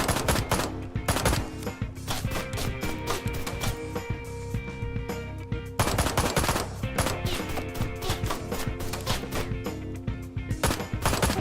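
Rapid, steady pistol gunfire in the video game Ride to Hell: Retribution, a continuous stream of sharp shots close up, running nearly unbroken under a game soundtrack.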